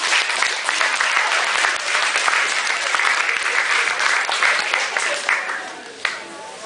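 A high school audience bursts into a long round of applause at a hypnosis show, many hands clapping densely and loudly before thinning out to a few scattered claps near the end, with voices faintly underneath.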